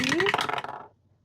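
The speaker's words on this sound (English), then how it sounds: "we're gonna roll. The first dice is gonna be" A single die dropped and rolled on a hard surface, a quick bright clatter and rattle that settles within about a second, close and clear with no voices.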